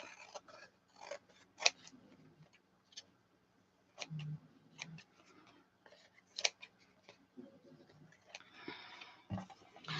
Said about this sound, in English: now we can trim our journaling card off